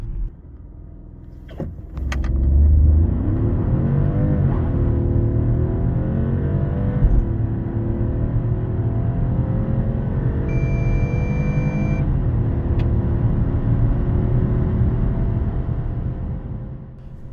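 A BMW X2 sDrive20i with a three-cylinder engine and dual-clutch automatic accelerating hard from rest, heard from inside as a loud rising engine note with repeated gear changes sweeping the pitch up and down, after a brief quieter idle.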